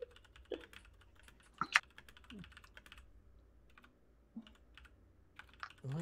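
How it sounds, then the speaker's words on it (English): Quiet, scattered clicks of typing on a computer keyboard during a tabletop role-playing game session, irregular and fairly close but soft, with a few sharper key taps. "I'm typing a lot."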